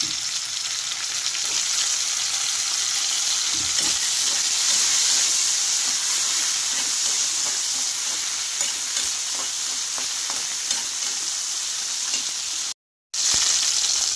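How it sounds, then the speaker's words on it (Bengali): Onions and chopped tomato frying in a pan, a dense steady hiss and crackle close by that runs almost unbroken, cut by a brief moment of silence near the end, with no voices. "পেঁয়াজগুলো দেখুন ভাজা হয়ে হালকা পিঙ্কিশ হয়ে গেছে এবার আমি দিয়ে দেব এর ভেতরে টমেটো কাটা"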